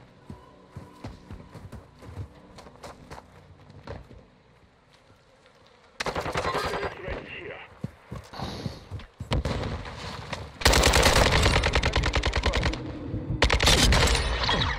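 An RPK light machine gun fires in a video game, with scattered faint shots first, then loud, rapid automatic bursts of tightly spaced cracks that grow heavier toward the end.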